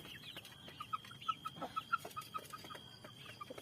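Chickens cluck softly in a quick series of short calls, fairly quiet against a faint background.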